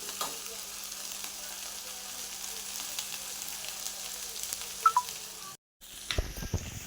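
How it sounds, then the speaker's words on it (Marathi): Gavran-style okra (bhendi) sautéing in a pan, giving a steady, moderately quiet sizzle and crackle throughout with a brief break near the end. "याला छान मस्त असं परतून घेते."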